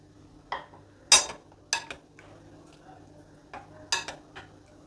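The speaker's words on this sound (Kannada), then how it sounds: "ಒಗ್ಗರಣೆಯಲ್ಲಿ ಮೊಸರನ್ನ ಈ ರೀತಿ ಸೇರಿಸ್ತಾ ಇದ್ದೀನಿ" Spoon stirring curd into a hot tempering pan for brinjal pachadi: a few sharp metallic scrapes and clinks spaced irregularly over a quiet background, close and fairly loud, with no talk.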